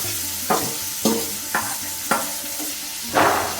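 Chopped onion and garlic frying in hot oil in a home kitchen, a constant loud sizzle punctuated by five distinct stirring scrapes at roughly half-second intervals, the last one longest, with no speech.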